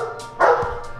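A dog barks once, close and loud, with a faint softer sound after it.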